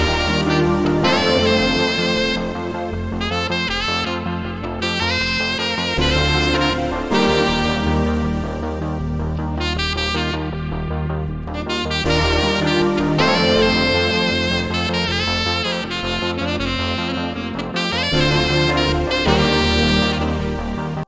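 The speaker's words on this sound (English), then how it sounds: "And lastly, we have this saxophone solo right here." Saxophone soloing over a dense, full 80s-style synth track with steady driving drums, loud and continuous throughout.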